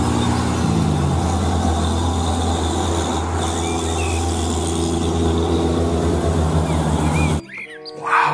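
A sand truck drives by with a steady, loud engine rumble and road noise, birds chirping faintly in the background, before the sound cuts off abruptly near the end.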